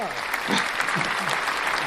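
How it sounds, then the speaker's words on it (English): Enthusiastic studio audience applause at a live Tejano-themed variety show fills a short stretch, with voices mixed in over the clapping. "The uproarious applause."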